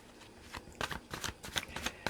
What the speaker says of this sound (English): while I'm shuffling here